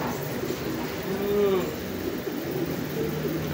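Racing pigeons arriving at a loft in San Jose, a soft cooing call rising briefly over a quiet background hiss.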